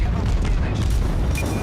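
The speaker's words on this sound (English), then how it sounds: "And in comes 1 torpedo," A torpedo strikes a ship in World of Warships, giving a loud, sustained booming blast with rumbling low end that fills the whole moment.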